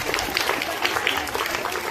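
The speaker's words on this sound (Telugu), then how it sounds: "బాగా చేసిన అందరికీ చప్పట్లు." A farewell-day audience applauds students who performed well, a dense, steady wash of clapping with no pauses, heard close.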